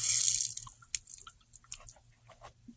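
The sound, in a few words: water running out of opened water filter valve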